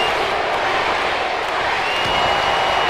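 In a WWE 2K17 wrestling match, a dense crowd roars and cheers steadily and loudly, a continuous wash of noise with no clear breaks.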